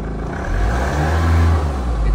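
Mahindra Scorpio N engine revving as the accelerator is pressed gently, a steady low rumble swelling midway through, close and fairly loud with a voice talking over it.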